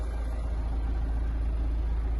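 A 2015 Peugeot 308 with a 1.6-litre diesel engine idles in a steady, close, low rumble with no speech over it.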